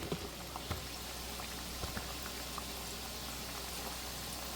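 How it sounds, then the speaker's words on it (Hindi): Gujiya pastries, four at a time, fry in hot oil over a low gas flame. A soft, steady sizzle runs throughout, quiet and continuous, with occasional tiny pops. "गरम तेल में डालेंगे। तेल बहुत ज़्यादा गरम आपको नहीं करना है, एकदम धीमा गैस पे इसको डालेंगे"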